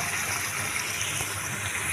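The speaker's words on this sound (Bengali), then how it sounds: "বেগুন আলু দিয়ে ঝোল, একটু পানিও দিয়ে দিলাম।" Water pours steadily into a pan of hilsa fish curry with aubergine and potato, a continuous soft gushing splash lasting a couple of seconds with no voices.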